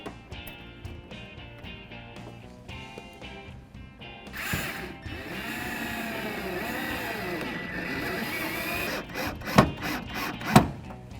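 Power driver whirring as factory screws are installed to secure a fender flare on a vehicle, with a rising and falling motor whine, ratcheting clicks, and a few sharp knocks near the end.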